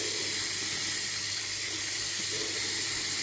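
Tap water runs steadily over an Einhell cordless tool battery pack as it is washed, a constant close rushing splash with no voices.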